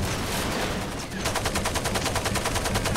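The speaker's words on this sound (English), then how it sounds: "This gun has so much recoil." Rapid automatic gunfire in the video game Far Cry 2, a loud, close, continuous stream of evenly spaced shots that fills the whole stretch.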